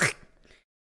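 A single short, nasal quack voiced by a person imitating a duck, close and brief, lasting well under a second before falling silent.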